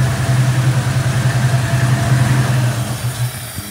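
A 1972 AMC Javelin with a rebuilt Autolite 2100 carburetor and a suspect new fuel pump grinds and whirs steadily on the starter for several seconds, loud and close, with a low droning tone and no sign of catching.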